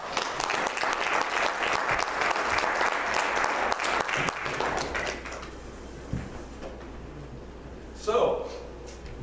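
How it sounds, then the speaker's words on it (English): A church congregation applauds, dense sustained clapping for several seconds that thins out and fades, followed by quieter room noise and a brief thump near the end. "give him another big round of applause"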